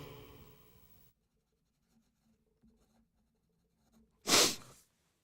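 A single loud, sharp sneeze bursts out close by after a few seconds of near silence, following some faint rustling at the start.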